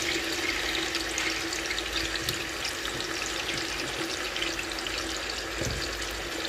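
Potatoes frying in oil in a pot for chicken masala biryani, giving a steady, dense hiss and crackle that holds at an even level throughout, with no voices.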